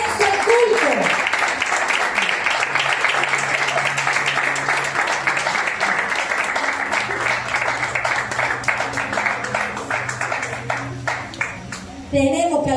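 Church congregation clapping their hands in praise, a steady dense wash of applause lasting several seconds with a voice and music underneath, ending in a sudden cut.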